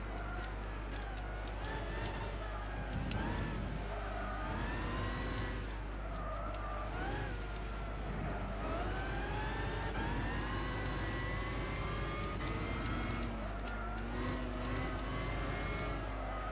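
A Nissan Skyline races in Gran Turismo 6 at Apricot Hill, its engine droning steadily and rising and falling in pitch through gear changes and revving, continuous and fairly loud throughout.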